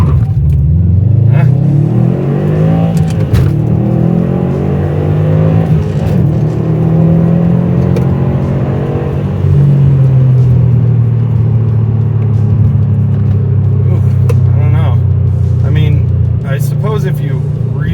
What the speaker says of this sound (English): If you really rev it up high and dump the clutch, it'll really move off the line.